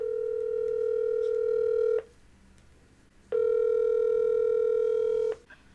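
Two steady telephone dial tones heard while placing a phone call, each lasting about two seconds, separated by a short silence, clear and close with no voices.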